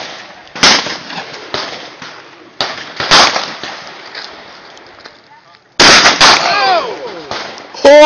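A minigun firing in bursts, sharp loud blasts trailing into rattling, echoing reports, each burst separated by a brief pause, with a voice audible near the end.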